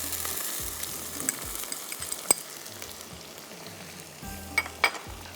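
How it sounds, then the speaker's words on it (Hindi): Ginger and garlic fry in a pan with a soft, steady sizzle and occasional light clinks from a utensil being stirred. No one speaks. "और थोड़ी देर इसको आपने फ्राई करना है"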